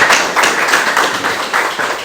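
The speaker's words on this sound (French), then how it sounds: "On peut applaudir au Seigneur." Applause in a church congregation, a few seconds of rhythmic clapping in bursts, fairly close and moderately loud.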